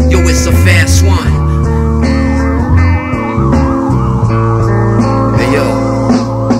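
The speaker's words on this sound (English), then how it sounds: "The sweet sound of police sirens underneath them city lights." A police siren sound effect wails in a rising and falling pattern within a hip-hop track, its steady oscillating tone sitting over bass and beat and continuing loudly throughout.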